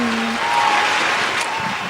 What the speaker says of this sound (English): Keep this applause going for the best crew in the world.